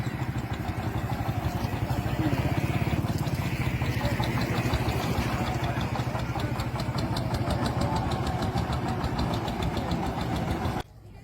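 A motorcycle engine runs close by on a badly broken rural road in Naogaon, with a steady loud rhythmic chugging throughout that cuts off abruptly near the end.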